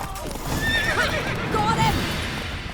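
The horse Roach neighs and whinnies with clip-clop hoofbeats while galloping in The Witcher 3, the whinny rising and falling over game sounds as a voice speaks over it.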